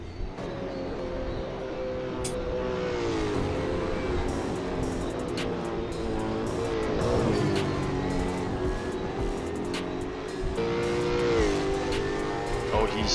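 A Supercars race car on a flying lap at Pukekohe in a racing video game, its engine droning loudly and steadily with rising revs and gear changes throughout, while a commentator talks over it.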